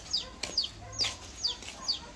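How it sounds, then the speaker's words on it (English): Chickens at a cockfight in Saint Lucia, with short clucking calls repeating about every half second at moderate distance, over faint background noise. "They got a little chicken there right there."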